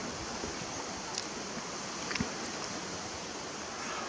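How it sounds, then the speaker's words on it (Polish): Sea waves washing onshore on a Baltic coastline as a steady, broad rushing wash of surf, with a couple of faint brief clicks and no voices. "Fale, no to widzimy"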